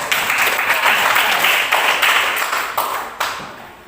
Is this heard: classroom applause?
yes